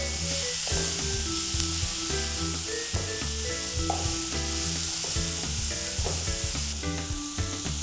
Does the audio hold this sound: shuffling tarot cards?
no